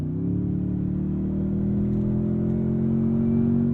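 A 2023 Toyota Tundra TRD Pro with a twin-turbo hybrid V6 accelerating, a smooth, steady, meaty engine drone that climbs gently in pitch and stays close and even, with no voices.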